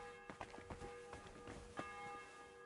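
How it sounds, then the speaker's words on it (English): A church bell tolls in a medieval-style video game, several soft, evenly spaced strikes with ringing overtones, faint and fairly distant. "The 11th toll of the bell."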